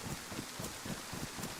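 Steady rain in the survival game DayZ, a soft broadband hiss with faint low patter and gusts of wind, continuous and fairly quiet throughout with no voices.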